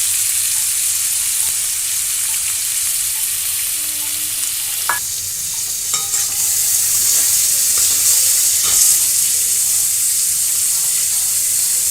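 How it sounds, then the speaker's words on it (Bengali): Chopped onions and potatoes being stirred in hot oil with cumin seeds, a steady close sizzle with faint scraping of the stirring utensil and a few light clinks, with no voices. "এবার পেঁয়াজ, আলু যা যা সব কেটে বা কুচিয়ে রাখা আছে সেগুলো একটু নেড়ে নেবো হালকা করে।"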